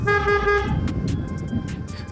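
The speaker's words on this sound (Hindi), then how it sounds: "अब लग रहा है कि हाँ एक भारी गाड़ी का हॉर्न है।" A heavy aftermarket horn on a Royal Enfield Super Meteor 650 blares one loud, sustained toot up close, then cuts off, leaving faint background noise and clicks.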